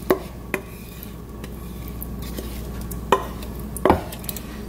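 Beef ribs braising with tomatoes in beef broth are stirred in a pot, with a few sharp utensil knocks against the pot over a steady low simmer, close and fairly quiet.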